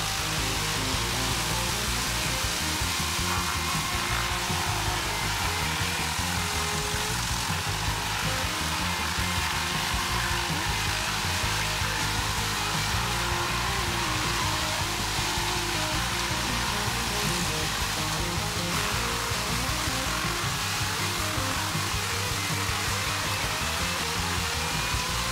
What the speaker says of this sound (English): the CH885 dynamic tree chipper works more powerfully than other machines with the same capacity.